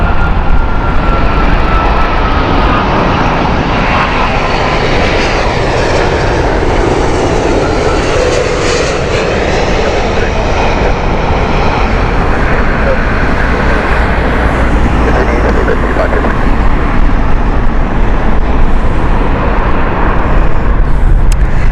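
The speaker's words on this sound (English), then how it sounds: "it is the Orlando flight with Virgin's A350" A Virgin Atlantic Airbus A350-1000 on the Orlando service at Heathrow in heavy winds, its jet engines a loud, steady roar that fills the whole stretch, with wind buffeting and some road traffic mixed in.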